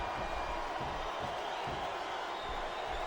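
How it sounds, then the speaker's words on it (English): Wrestling arena crowd in Smackdown vs Raw 2007 gives off a steady, dense roar with rhythmic thumps that sound like stomping, filling the whole span at even loudness without any break. "Sounds like this crowd's got something on their minds, King."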